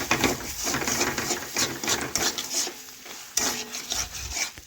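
Prawn curry being stirred in a pan gives repeated scraping and rubbing strokes of a spoon against the metal over a low sizzle, close and fairly loud.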